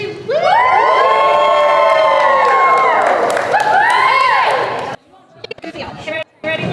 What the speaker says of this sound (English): You're gonna cheer.